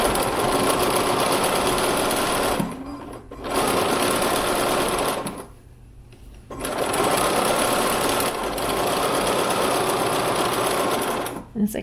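A sewing machine back-stitches a pocket onto a wrap apron dress, a loud, close, steady mechanical whir in long runs with two short stops and a longer pause midway.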